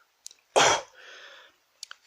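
A single sharp, loud cough-like burst from one person, followed by a softer breathy tail and a few faint clicks, close by with no talking.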